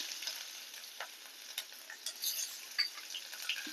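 Sliced shallots and mustard seeds frying in oil, a faint continuous sizzle broken by scattered crisp pops and light stirring clicks, close by with no voices.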